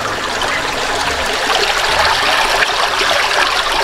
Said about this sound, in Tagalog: pumapasok po yung tubig sa ilog papunta sa fish pond